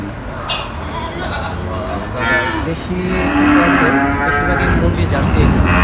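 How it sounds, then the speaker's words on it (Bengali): Dairy cows of Jersey and Mundi breeds on a farm give low moos, close and fairly loud, beneath steady talk, with ongoing farmyard background sound. "কি কি জাতের গাভী আছে আপনাদের খামারে এখানে জার্সি আছে মুন্ডি আছে"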